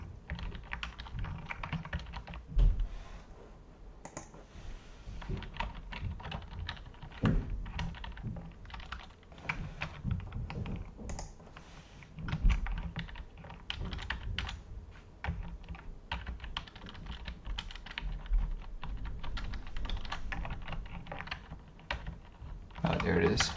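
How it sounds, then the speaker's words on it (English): Close computer keyboard typing, bursts of clicky keystrokes and occasional heavier thunks over several stretches, with someone speaking at times between them. "what the hell's going on with my keyboard?"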